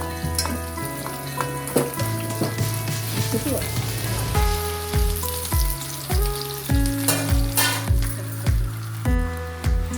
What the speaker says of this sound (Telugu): చూసారు కదా, చక్కగా పోపు వేగుతుందో ఇలా త్వరగా వేగాలన్నమాట.